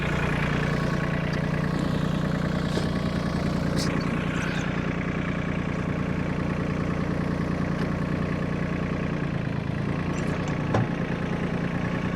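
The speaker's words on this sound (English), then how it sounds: "I'm on the trusty tractor." A tractor engine idles steadily and loudly nearby, a constant low diesel rumble with a few faint clicks and knocks over it.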